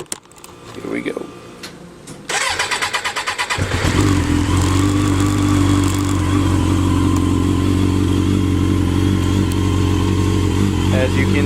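A 1995 Suzuki RF900 motorcycle, choke on, cold-starting: a few seconds of starter cranking, then the engine catches and settles into a loud, steady, close idle.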